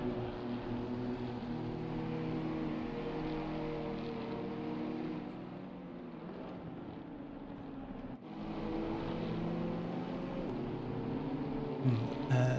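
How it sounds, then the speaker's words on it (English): A BMW M2 race car engine drones steadily in a multiclass sim race at Zandvoort, a loud sustained engine note with a brief dip near the middle before resuming, and no voices. "Alex Levinson will be the first of our BMW M2s to dive into a flying lap as he comes around the final couple of corners"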